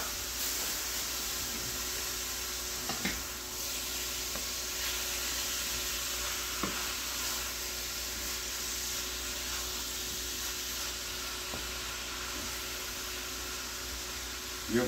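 Steak with steak seasoning cooks in a pan for a Philly cheesesteak grilled cheese, making a faint, steady hiss of sizzling throughout with a few soft clicks and no talking.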